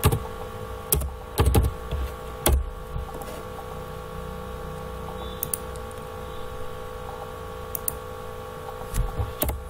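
Computer keyboard typing while working in AutoCAD: a handful of sharp, close key clicks and small clusters of taps separated by quiet stretches, over a low steady room hum, with no speech.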